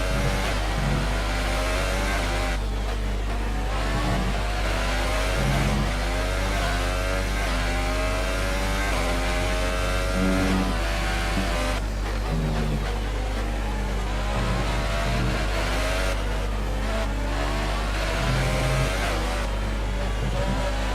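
A Williams Formula 1 car from the F1 2018 racing game screams along at Abu Dhabi, its high-revving engine droning loud and continuous with rising and falling pitch through gear changes and corner exits, a steady low hum underneath.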